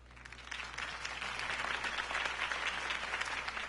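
A video game crowd in Batman: Realm of Shadows claps and cheers in steady, continuous applause, moderately distant and fairly even throughout.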